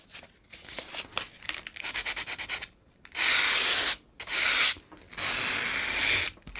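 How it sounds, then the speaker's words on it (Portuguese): Small piece of sandpaper rubbed over a painted surface by hand, a series of close, scratchy strokes with short pauses between bursts, alone without talk. "Então, vou passar aqui uma lixinha."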